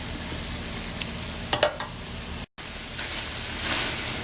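Softened vegetables and frozen Morningstar sausage crumbles frying in a pan, a continuous close sizzle with a couple of brief clinks of a utensil partway through and a momentary cut.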